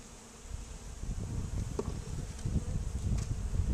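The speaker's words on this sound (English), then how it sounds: "I hope this thing is picking up the sound of the bees." Honey bees hum inside a hive freshly moved from a swarm trap, a close, steady buzzing drone that swells slightly toward the end, with no talk over it.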